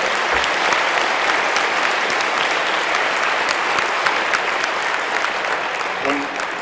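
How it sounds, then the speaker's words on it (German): Loud, steady applause from a large conference audience at a hacker congress talk on net neutrality, many hands clapping continuously close by with scattered sharp claps standing out. "Applaus bitte."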